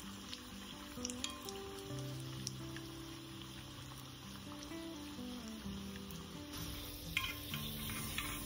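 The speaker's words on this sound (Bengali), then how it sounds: "এবারে এগুলোকে সব তেলের মধ্যে একটা একটা করে ভেজে নিতে হবে।" Cheesy potato chops frying in hot oil, a quiet continuous crackling sizzle with scattered pops and faint utensil tones, steady throughout with no one talking.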